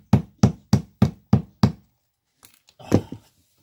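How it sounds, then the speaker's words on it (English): Six evenly spaced, sharp hammer strikes drive nails into something being repaired, each a loud close thump, followed by a brief pause and softer scraping and knocking handling noises. "So I'll try to knock down some nails beside it."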